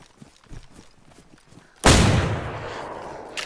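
A single loud gunshot goes off in the DayZ video game after quiet shuffling, its blast falling into a long rolling echo.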